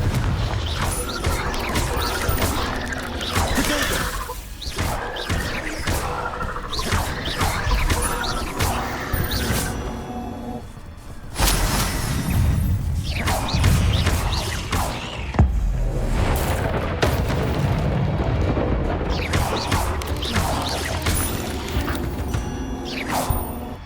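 Confringo spell blasts in the video game Hogwarts Legacy burst again and again as loud crashing explosions and booming whooshes, mixed with clattering game effects in a dense, continuous barrage.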